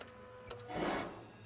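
A printer runs briefly while printing an aura photograph, a short mechanical whir and rasp that swells and fades within about a second, close and alone.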